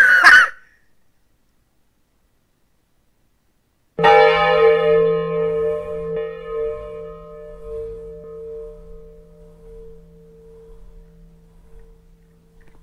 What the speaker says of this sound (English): It's a very weird sounding bell.